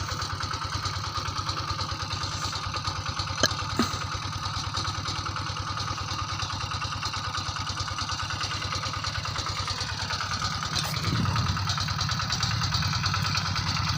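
A two-wheel tractor with a rice seeder attached idles steadily and close by in a rice field, a constant mid-pitched engine drone with one brief knock partway through and a slightly heavier throb toward the end.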